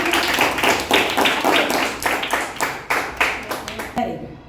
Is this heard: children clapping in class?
yes